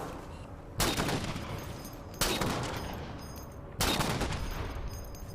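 Bursts of automatic gunfire from the Halo 4 shooter game: three loud, dense volleys about a second and a half apart, each starting abruptly and rattling on until the next one begins.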